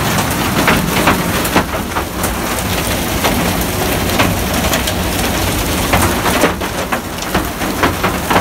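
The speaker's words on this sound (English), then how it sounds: "Taking refuge in the van, if you can hear this above the noise of the hailstones." Hailstones drumming on a van roof heard from inside, a loud, dense, continuous roar of impacts with occasional sharper hits, during a mountain cycling trip in the Pyrenees.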